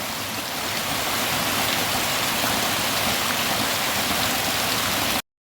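Heavy rain pours down steadily while rainwater runs off in a strong flow, a loud, dense, unbroken hiss and rush that holds from start to finish before cutting off.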